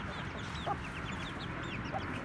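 Chickens cluck in a coop, a run of short, chirpy calls sitting over a steady low background hum, moderately near and with no talk over them.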